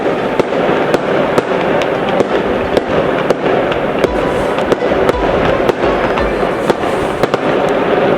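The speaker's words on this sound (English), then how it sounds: "Just heard bursts of fireworks from my bed" Rapid fireworks bursts crackle and pop continuously on the Amalfi Coast, Italy, with sharp repeated bangs and occasional deeper booms over a dense, noisy background.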